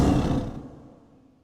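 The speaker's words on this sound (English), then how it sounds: "I'm about to drop the lion sound into pigments." A sampled lion roar bursts out loud and close, then fades steadily over about a second and a half, with no voices.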